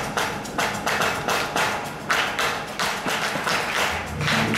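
A crowd at an Amis singer's album preview and signing event claps along, practising a song's rhythm: repeated sharp hand-claps in uneven bursts, fairly close and moderately loud.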